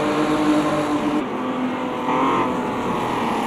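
An Opala 79 race car in Automobilista 2 corners and slides at Londrina, its engine droning steadily with a loud, continuous buzzing roar and a rising note near the end, with no speech.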